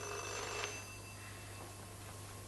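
A telephone rings in a film scene set in a closed house during the Second World War. The bell trills steadily at a moderate distance over a low background hum, with no talk.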